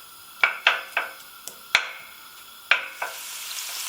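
Onions and garlic in a generous pour of olive oil, a faint low sizzle under a series of sharp metallic taps and clinks from a utensil against the pan, spaced irregularly with no talking.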